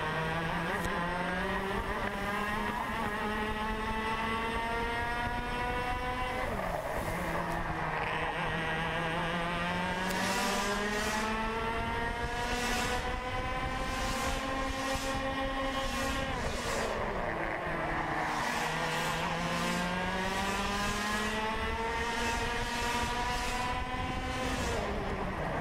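On-board sound of an X30 Senior racing kart at the 2017 SKUSA Pro Tour SpringNationals, a loud, continuous, high-revving two-stroke engine rising and falling through corners, with other karts nearby.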